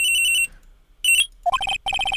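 A cell phone ringtone from the Phoenix Wright: Ace Attorney video game, bright electronic chirping bursts in quick repeated patterns broken by short gaps, clear and loud with no voices.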